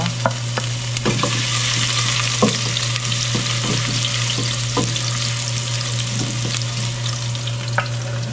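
Duck adobo with plenty of ginger and garlic sautés in a pan, a continuous sizzle broken by repeated sharp utensil clicks and scrapes from stirring over a steady low hum.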